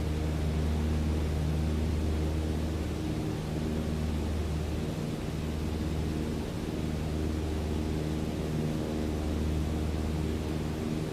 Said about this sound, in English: Weird that I'm flying a Cessna with a stick